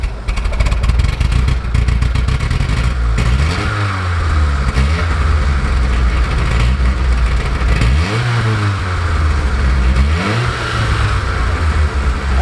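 A rusty old Rover car engine runs loudly and steadily close by after starting, with repeated revs rising and falling throughout.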